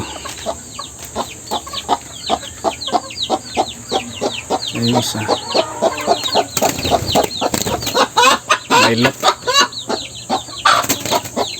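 Young rooster and hens clucking close by, a dense run of short rhythmic clucks and calls, with someone speaking briefly over them in the middle.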